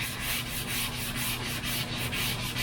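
High-build primer is sanded on a Dodge crew cab truck body, producing a continuous, close rhythmic abrasive rasp with a steady back-and-forth pulse.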